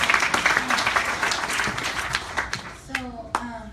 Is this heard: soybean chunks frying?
no